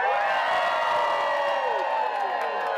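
A large crowd cheers and whoops continuously at a veterans' welcome home event following an Honor Flight, a steady, loud mass of voices with high shouts rising over the roar.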